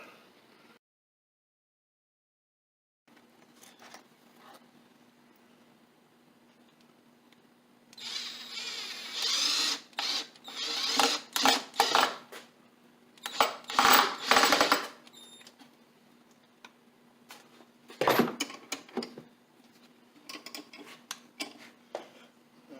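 A power driver sets screws into a wooden cook crate: several loud whirring bursts of different lengths, separated by quiet gaps and faint handling noises, with a low steady hum running underneath.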